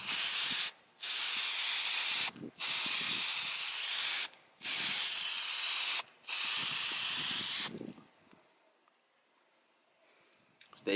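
Aerosol headlight coating sprayed onto a car headlight in bursts, five long steady hissing passes separated by brief pauses, close and loud, ending in quiet.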